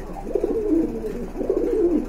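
Pigeons cooing nearby at a pigeon market in two soft, rolling bursts, a low throaty warble that rises and fades, with no talking.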